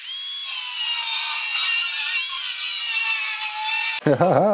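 Grinder cutting a metal part on a Renault 11, a loud continuous high whine held close for about four seconds, then an abrupt stop and a short wavering low tone.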